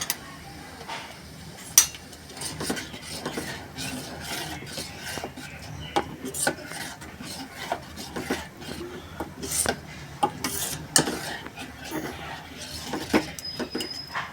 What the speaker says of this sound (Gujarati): આ જે ચીલની ભાજી છે તેને કન્ટિન્યુ આવી રીતે હલાવતા રહેવી પડે છે, નહીં તો એ વાસણમાં નીચે ચોંટી જાય છે